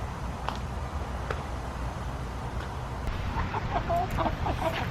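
Chickens on a homestead make soft clucks near the end, heard over a steady background of rain or wind noise.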